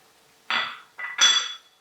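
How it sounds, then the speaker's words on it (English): Green onion and other herbs tipped into a pan of cooked chicken for a green herb chicken dish, heard as two short clattering, sizzling bursts of metal and utensil noise, close and fairly loud, with no talking. "Now we're gonna add the rest of our ingredients, which is green onion"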